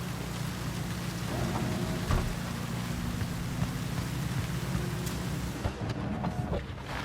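Steady rain pours in Cyberpunk 2077 Phantom Liberty, a dense, continuous hiss with a low rumble underneath that runs unbroken at an even loudness throughout.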